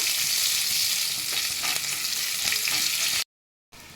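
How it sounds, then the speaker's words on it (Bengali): Onion and a bay leaf fry in oil in a pan with a loud, dense, steady sizzle that cuts out abruptly near the end, then briefly resumes. "এই পেঁয়াজ কটাকে আমি একটু লাল লাল করে ভেজে নেব।"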